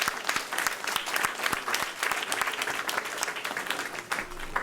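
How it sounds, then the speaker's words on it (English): Church congregation clapping hands in praise at an evening board meeting, steady sustained applause from many people in a room, moderately loud. "let's give the Lord a hand clap of praise this evening"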